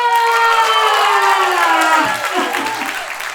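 A theatre audience at a Matilda show applauds and cheers loudly and densely, with a sustained, bright voice-like tone sweeping downward over the clapping before the crowd noise thins slightly near the end.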